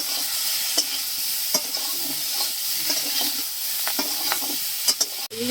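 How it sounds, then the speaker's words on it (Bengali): Cauliflower frying with turmeric and salt in a pan for a cauliflower, potato and fish curry, giving a steady close sizzle with occasional sharp stirring scrapes and clinks throughout, no voices. "ফুলকপি ভেজে নেবো হলুদ লবণ ভেজে নিতেছি"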